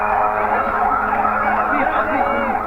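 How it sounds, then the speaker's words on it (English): Emergency vehicle sirens wail continuously at an airstrike site, several overlapping rising and falling tones forming a steady, loud, dense layer. "There are screams of desperation and the sounds of sirens"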